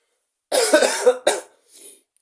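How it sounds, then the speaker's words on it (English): A single loud, close cough with a short second burst, followed by a fainter throat sound, then silence. "I felt that cough."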